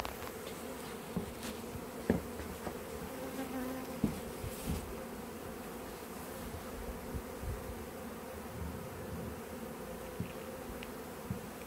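Honeybees hum and buzz steadily and close up as a cluster is scooped from a cut-out cupboard colony toward a hive. The drone holds throughout, broken by a few soft knocks and taps, with no speech.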